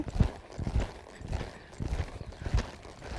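Hooves of a mare loping under saddle, a rhythmic clip-clop of repeated hoofbeats in a steady rolling cadence, close and moderately loud with no talk.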